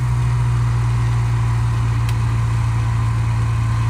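Cessna 172 piston engine droning steadily after the throttle is eased back during an ILS approach, a constant loud low hum heard from inside the cabin with no break in the sound.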